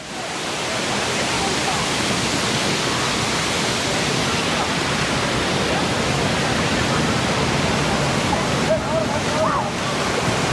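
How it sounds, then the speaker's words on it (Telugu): Lakkam waterfall in Eravikulam National Park throws up spray in a dense, continuous roar of rushing water that fills the scene close by, steady from start to finish. "తుప్పర్లు తుప్పర్లు చూసారా నీళ్ళ తుప్పర్లు ఎట్లా బాగున్నాయో అంత బాగా స్మోక్ వచ్చినట్టు వచ్చేస్తున్నాయి"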